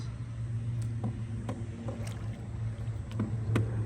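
A small boat moves slowly through a quiet, forested waterway on Centre Island, with a steady low engine drone and occasional splashes and knocks of water against the hull, close and continuous.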